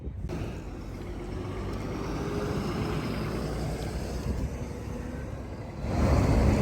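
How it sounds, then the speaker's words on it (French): An Olympic bus passing close by on a quiet road near the Beijing winter Olympic park, a steady broad engine and tyre rumble mixed with wind buffeting, swelling louder in the final second as it draws nearest. "On va se faire écraser par un bus olympique."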